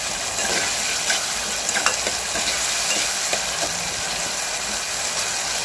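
Green masala paste sautéing in a pan for jackfruit biryani, a steady close sizzle with the scrape and clatter of stirring throughout, no voices.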